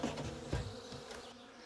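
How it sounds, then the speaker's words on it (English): Steady insect buzzing from many bees around a hive, a dense hum with brief louder swells as individual bees pass close. "with bees going in and out and doing their thing"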